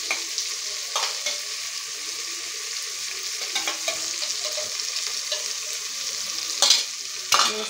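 Ginger and shallot paste sizzling and being stirred in a pan with biryani spices for egg biryani, a steady close fry with scraping stir strokes and a couple of sharper clatters near the end.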